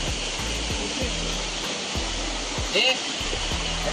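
Rainwater rushes down a small stream in a Konkan village after heavy rain, a steady broadband wash of flowing water heard close, with brief low thumps and faint movement around it.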